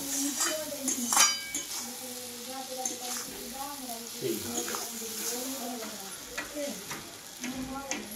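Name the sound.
mutton brain frying and being stirred in a pan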